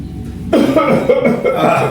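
A person coughs close by in a short, rough, loud burst.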